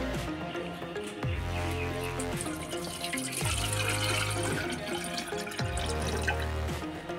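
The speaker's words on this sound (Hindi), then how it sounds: "और इसमें पानी डालते हैं, चलो पानी डालो, ये रहा पानी" Water pours steadily into a Vista electric kettle, a continuous close splashing and gurgling stream whose pitch rises in repeated sweeps as the kettle fills, with no talk over it.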